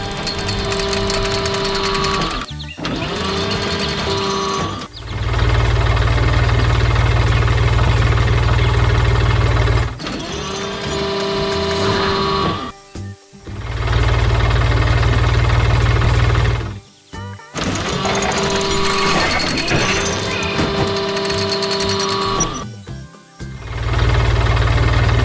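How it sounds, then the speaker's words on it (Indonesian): In a farm animation, a blue tractor engine works in a flower garden, its chugging motor running in long loud stretches broken by short drops and pauses. "Lihat traktor biru yang sedang bekerja keras di tengah kebun bunga yang ceria"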